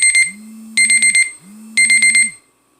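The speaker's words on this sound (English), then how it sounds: "Sorry, I got an alarm going off." An alarm sounds loud and alone in three bursts of rapid high electronic beeping, each with a rising and falling tone beneath, then stops.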